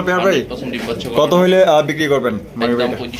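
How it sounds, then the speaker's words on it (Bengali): A pair of Lahori pigeons coo in low, repeated throaty phrases, close and fairly loud, mixed with a person talking throughout. "একজোড়া লাহরি কবুতর দেখতেই পাচ্ছেন"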